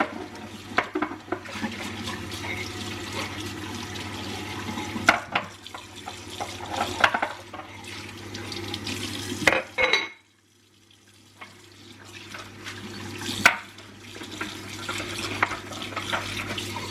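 Tap water runs steadily into a kitchen sink while dishes are washed, with dishes clinking and knocking now and then. The flow stops for about a second and then starts again.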